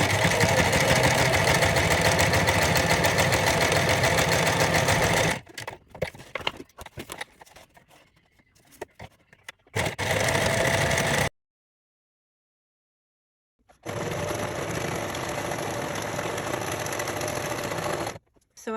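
A sewing machine stitches lines on paper with a fast, steady mechanical whir up close. It runs in long bursts, and quieter handling clatter fills the pause between them.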